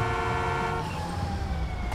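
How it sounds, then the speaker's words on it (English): An ambulance siren wails in the video game GTA 5, a loud, steady electronic tone with stacked harmonics that shifts pitch partway through, with road and engine rumble beneath it. "I do hear the siren."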